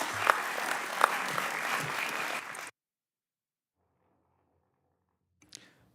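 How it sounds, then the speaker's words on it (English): Audience applause for Mr. Shaughnessy rings out loud and steady for under three seconds, then cuts off abruptly into near silence, with only a faint stray knock near the end. "Let's give Mr. Shaughnessy a big round of applause"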